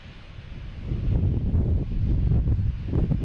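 Steady wind buffeting outdoors at Boston Logan Airport, a low rumbling roar that swells after the first second and stays strong, with no voices.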